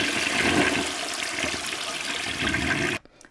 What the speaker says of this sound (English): Now listening to the toilet flush.